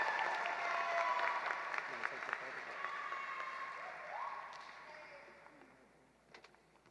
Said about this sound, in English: Please join me as we give all of our seniors another round of applause for their commitment to excellence in